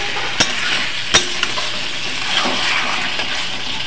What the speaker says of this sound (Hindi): इसको चलाते हुए 5 मिनट तक भूंज लेंगे